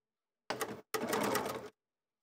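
A sewing machine stitching curved quilt block pieces, two short bursts of fast mechanical whirring separated by a brief pause, close and clear.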